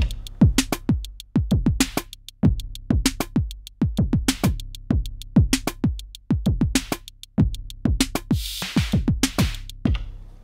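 A drum pattern is played on an Ableton Push 3. Punchy kicks and snares hit in a steady looping rhythm, with sharp decaying transients and a brief hiss near the end. There is no talk.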